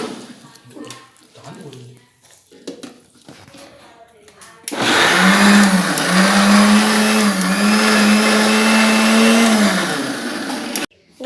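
A blender churns fresh mango into juice, starting abruptly after a stretch of quiet kitchen sounds and running as a loud, steady whirring drone with slight pitch dips until it cuts off.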